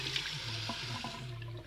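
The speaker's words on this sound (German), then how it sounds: "Fließendes, kaltes Wasser." Cold water runs steadily from a tap in a trailer's small washing corner, a continuous close splashing and trickling stream with no voices.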